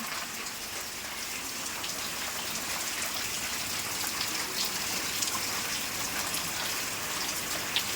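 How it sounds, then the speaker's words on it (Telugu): Steady rain patters down continuously, a soft, even hiss of drops striking surfaces with no voices present. "వర్షం అయితే ఇప్పుడు స్లో అయింది ఇంకా కొద్దిసేపు అయితే మళ్ళీ స్పీడ్ బాగా వర్షం అయితే వస్తుంది"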